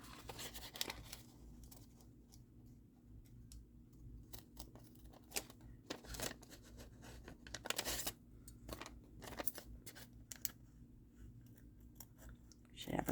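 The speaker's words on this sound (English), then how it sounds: "Should have a smaller scissors for cutting this little schnibble off here." Scissors snip paper in a quick series of sharp, close cuts with brief pauses between, over a faint background hum.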